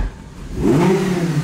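An Audi R8 engine revs up as the car pulls away, a rising, swelling engine note that builds and holds steady, close and fairly loud, with no talking.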